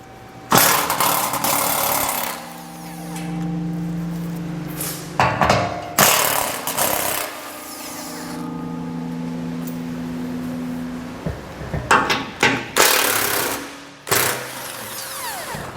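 A socket tool loosening four 15mm skid plate bolts under a 2021 Ford Ranger, in loud, close bursts of mechanical whirring and rattling separated by brief pauses, with a steady motor-like drone between them and no talking.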